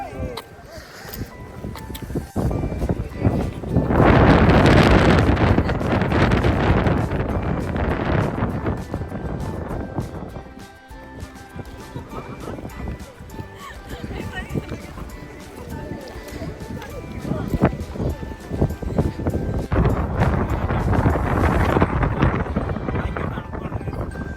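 Wind gusts on Nandi Hills buffet the microphone in loud rumbling bursts that rise, fade, then return, with muffled voices underneath.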